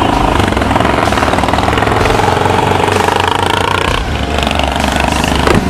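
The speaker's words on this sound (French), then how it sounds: "Ah, il m'a détruit les oreilles avec son pot, lui." Loud motorcycle exhaust from a gang of bikers riding past on a rally route, a close, heavy, throbbing engine roar that stays intense and continuous throughout.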